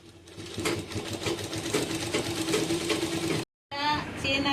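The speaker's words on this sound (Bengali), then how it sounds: "এইখান পর্যন্ত আমি সেলাই করবো, এইখান থেকে সেলাই করে দেখ" A sewing machine stitching a homemade laptop cover: a loud, close, continuous rapid whirring and clatter that pauses briefly near the end and then resumes, with a voice talking over it.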